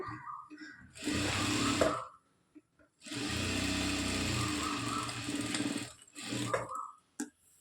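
A sewing machine runs straight stitches along a blouse in two long, steady whirring bursts and a shorter final run, close and loud, with short pauses in between.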